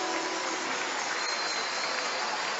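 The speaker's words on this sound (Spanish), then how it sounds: "Démosle palmas al Señor nuevamente." A church congregation at a pastoral retreat claps together in praise, a dense, steady wash of many hands filling the whole moment without any voices on top.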